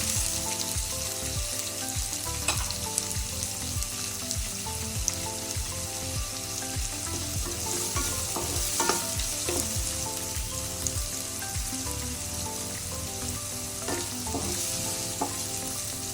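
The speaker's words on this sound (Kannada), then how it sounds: "ಮೆಣಸಿನಕಾಯಿ ಆದ್ಮೇಲೆ ಈರುಳ್ಳಿ. ಒಂದು 2 ನಿಮಿಷ ಫ್ರೈ ಮಾಡ್ಕೊಬೇಕು." Chopped onions fry in a pan after green chillies for Uttar Karnataka mandakki oggarane, a steady dense sizzle broken by frequent scraping stirs, close and constant throughout with no talking.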